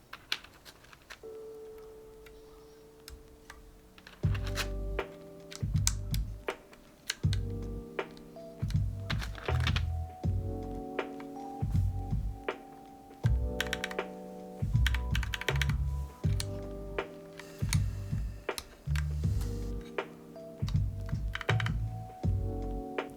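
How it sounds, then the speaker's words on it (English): Keycaps pressed one after another onto a Tofu 60 mechanical keyboard, giving a close, steady run of sharp plastic clicks and dull thunks with short pauses between bursts. "And finally, we can put on our keycaps."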